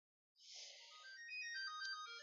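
A mobile phone rings with a short, bright, melodic ringtone of tonal chimes, quiet and heard alone.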